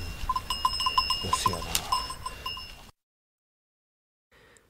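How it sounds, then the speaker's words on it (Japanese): A bell hanging from a goat's neck clanks in quick repeated rings near roadside countryside, bright metallic clinks over outdoor noise, then a short pause before someone briefly speaks. "ヤギが首から下げてる金がカランカランカランとなってますけど"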